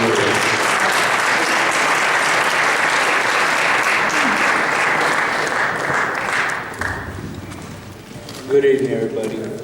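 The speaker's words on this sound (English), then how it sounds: "Please, round of applause for Brandon Bam Bam Rios." A boxing crowd gives retiring boxer Brandon Rios a round of applause, dense clapping and cheering that gradually thins and fades toward the end, with a voice speaking briefly as it dies down.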